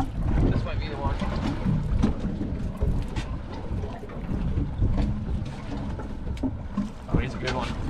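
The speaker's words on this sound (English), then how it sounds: "The wind's starting to come up now, too, you can feel it." Gusty wind buffets a microphone on a halibut fishing boat off Alaska, a loud, continuous rumble with sea and boat noise, while people on board talk over it.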